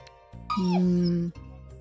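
A dog gives a single drawn-out whine or yelp of about a second, loud and close, set against faint room background.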